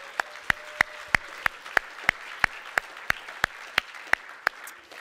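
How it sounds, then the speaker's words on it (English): A church congregation claps in a round of applause after a worship song, sharp even claps coming in a steady rhythm of about three per second, moderately loud in a reverberant hall with no talking. "Let's give the Lord a round of applause."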